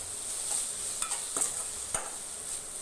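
Coriander and mint leaves frying in a pan for mutton cutlets, a soft steady sizzle with a few brief stirring scrapes and taps, fairly quiet and close.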